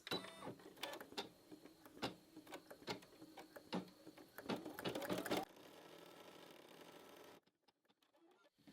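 An embroidery machine stitches out placement stitches for an in-the-hoop bunny bookmark. A fast, steady mechanical rattle of needle strokes runs for several seconds, then drops to a low hum and stops.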